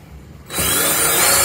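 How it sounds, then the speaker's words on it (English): A power drill starts up midway and bores a hole in a DIY bait tank, a loud steady whirring grind that continues to the end after a quiet opening, close by, with no speech. "Now I'll drill a hole just opposite it."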